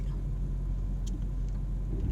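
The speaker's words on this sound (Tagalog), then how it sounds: "medyo matagal yung traffic" Steady low rumble of slow-moving road traffic on a sharp uphill curve, held up by an accident, with car engines idling and creeping along, close and continuous, with a faint higher hiss overhead.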